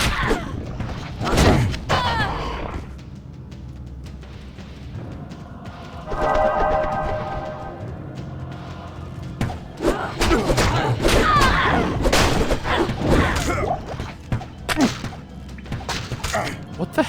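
Combat in Diablo 2 as an ally fires on enemies: a busy run of sharp thuds, whacks and whip-like shots, some bursts loud and close, mixed with game effects and occasional talk.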